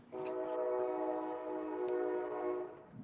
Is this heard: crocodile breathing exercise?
no